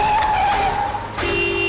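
A car driving erratically on a road lets out a long tire squeal as it skids, followed by a short engine drone, loud and near with no speech.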